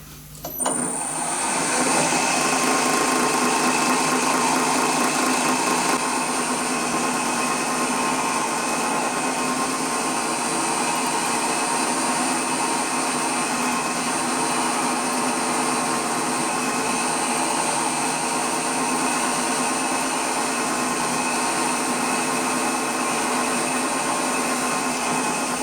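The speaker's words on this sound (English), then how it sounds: "that's where we're going to drill for an M6 screw." Machine drilling of a clearance hole for an M6 screw in a metal part for a Titan .60 glow plug model engine; a steady, loud motor whine starts abruptly and runs continuously, with no talking.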